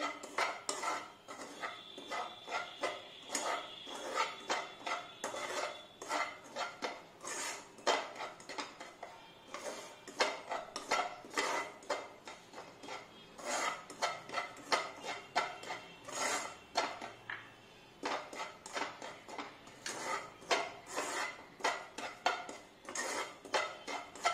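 A spoon scrapes and knocks against a pan while semolina is stirred in ghee, a close, steady run of rhythmic metallic strokes with short pauses and no speech.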